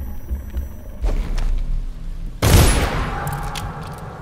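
A single loud gunshot from a pistol bullet in the stealth game Dishonored cracks out sharply partway through, followed by a decaying echo over a low ambient hum.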